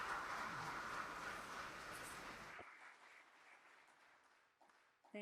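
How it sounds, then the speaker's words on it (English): A ceremony audience applauds award honorees at the Samsung Ho-Am Prize award ceremony, a broad wash of clapping that cuts off sharply halfway through, leaving a quiet room with faint noise. "please join me in extending a warm round of applause for all of our honorees"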